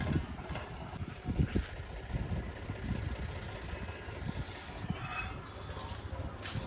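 A tractor engine idles with a steady low rumble close by, fairly even throughout with slight surges, on a farm near a cattle shed.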